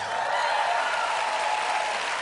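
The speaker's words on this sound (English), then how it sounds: "They're clapping for a place they've never heard of" A studio audience at a talent show claps steadily after a contestant from Piney Flats, Tennessee, a dense, even patter of many hands sustained throughout with no voices breaking through.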